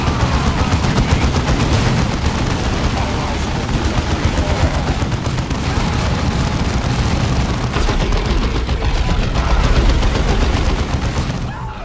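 Rapid gunfire and explosions from Warhammer 40K Dawn of War 2 battle, with sniper support among the shooting; dense, continuous crackling bursts and booms at high level, a voice faintly present at times.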